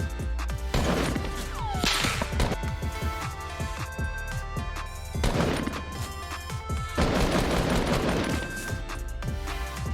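Rapid bursts of weapon fire in a Fortnite battle royale match, loud dense volleys of cracking shots in three main clusters separated by short lulls, with no voices.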